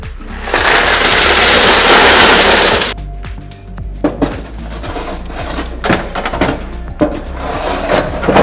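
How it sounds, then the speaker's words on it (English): Ice cubes tumble out of a refrigerator ice maker bin during fridge cleaning: a dense rattling pour of loose ice for a few seconds, then scattered clinks and knocks as remaining cubes are shaken and handled. "we're gonna take out the ice and make sure that we dump the ice"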